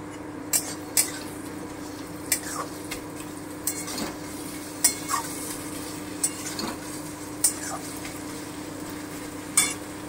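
Ginger paste frying over medium heat in a pan for a duck egg curry, a steady low sizzle running throughout, broken by repeated sharp clinks and scrapes of a utensil stirring against the pan.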